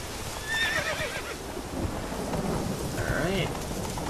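In The Witcher 3, the horse Roach gallops with rapid hoofbeats and gives two short whinnies, one near the start and one near the end, over a rumbling rain-and-thunder ambience.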